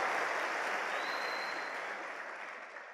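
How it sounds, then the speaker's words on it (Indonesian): A seminar audience applauds for the city of Bandung: thick, continuous clapping from a large crowd, loud at first and slowly easing off, with no voices. "Tepuk tangan dong untuk Bandung."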